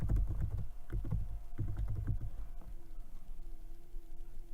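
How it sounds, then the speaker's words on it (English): Quick bursts of computer keyboard typing for a web search, close and clicky in short rapid runs, then tapering off into a low steady room hum. "I'm simply going to type in background knowledge"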